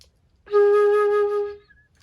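A single sustained flute note with a clear, pure tone, swelling in quickly, holding steady for about a second, then fading out, heard alone and close against a quiet background.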